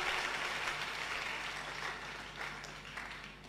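A church congregation claps in a steady, dense roar that fills the space, continuous and fairly loud, with no one speaking over it.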